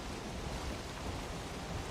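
Steady rain with a low rumble of thunder from an ocean storm in the video game Valheim, a constant dense wash of noise at even loudness with no talk.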